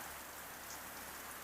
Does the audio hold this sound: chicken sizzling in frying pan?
no